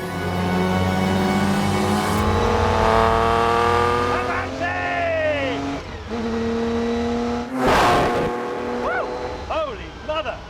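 A Ferrari P3 classic sports car drives with a loud, rising engine note that shifts through gears, then revs sharply as it passes close by, with a voice talking over it.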